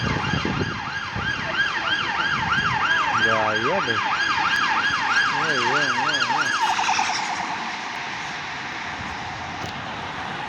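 A wailing emergency siren sweeps up and down loudly nearby on Oxford Street, London, with a second siren tone joining, then fades off into traffic noise; a voice speaks briefly.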